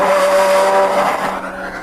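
Nissan Z car video plays through a phone's loudspeaker, a loud, thin engine roar with squealing tires that fades out toward the end.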